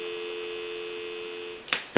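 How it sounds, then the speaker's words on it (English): A steady, continuous dial tone on a regular phone line fed to a three-slot payphone, holding level for well over a second before a brief click and clatter at the end. "give you some dial tone"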